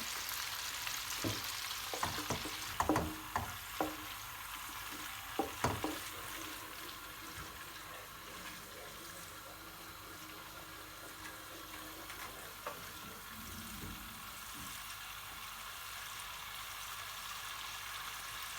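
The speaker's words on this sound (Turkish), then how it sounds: "Şu anda yağımız iyice cızırdamaya başladı." Oil sizzles steadily in a frying pan before flour is added for helva, a constant hiss with a few clinks and taps of utensils early on, no talking.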